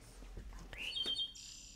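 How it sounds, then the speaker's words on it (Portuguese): Recorded birdsong effect played back in editing software: a few quick chirps and a rising whistled bird call, then a brief high trill, clear and fairly close. "vou pôr aqui um som qualquer que não me dê problemas de direitos de autor, passarinhos"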